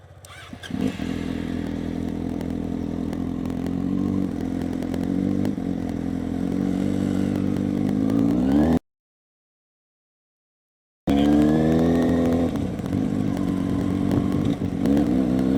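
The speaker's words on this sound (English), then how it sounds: "Just so it's easier for the bike to take off up the hill." A motorcycle pulling away on a hill start on a road, its engine droning loudly and steadily before rising in pitch as it accelerates, breaking off briefly, then revving on again up close with no talking.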